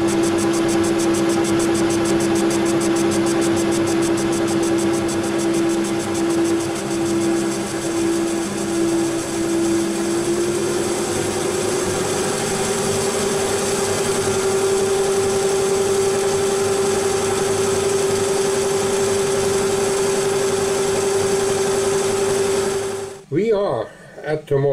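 Machine tool taking 0.2 millimeter cuts while making a rotating platform for a Multifix, giving a steady, continuous motor whine with a slight pitch shift midway, running for about 23 seconds before stopping abruptly.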